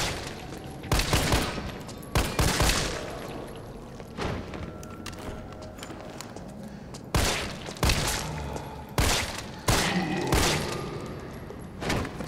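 Gunfire from the video game Resident Evil 3 on hardcore mode: loud, repeated bursts of shots, some rapid and close together, separated by short lulls, with no talking.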